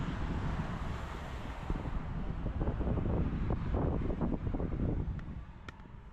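Strong wind buffets the microphone outdoors in France in a constant rumbling roar, gusting unevenly and easing slightly near the end.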